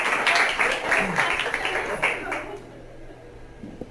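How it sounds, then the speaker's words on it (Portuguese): A group claps for a couple of seconds, a dense patter of hands that quickly dies away into quiet room noise. "Palmas para Jesus"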